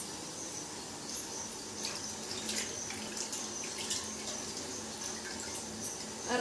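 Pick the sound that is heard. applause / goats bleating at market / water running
water running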